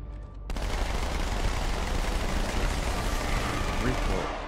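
Dual-wielded SMGs firing in Halo 2 Anniversary, a dense, continuous rattle of rapid shots starting after a brief pause and sustained to the end, loud and close, with a voice briefly over it.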